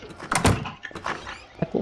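A door being opened during a raid in a tactical shooter game: a few short knocks and a thunk, with several brief impacts spread across a couple of seconds at moderate level.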